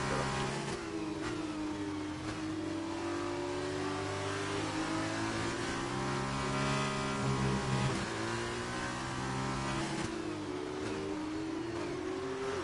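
Car engine in a racing video game played on PlayStation, revving and shifting through rising and falling tones in repeated acceleration sweeps, steady and prominent with no voices.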